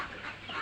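Chickens in a sweltering poultry farm shed under a tin roof, heat-stressed and panting, give faint, muffled clucks inside a hissy, broadband background.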